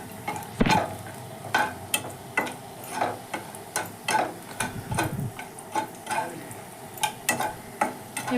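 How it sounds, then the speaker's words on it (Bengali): Bori lentil dumplings fry in hot oil left over from frying fish, with a low sizzle under a steady run of sharp spatula clicks and scrapes roughly every half second. "এই তেলের মধ্যেই আমি কিছু বড়ি ভেজে নেব।"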